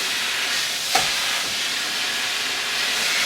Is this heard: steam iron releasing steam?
yes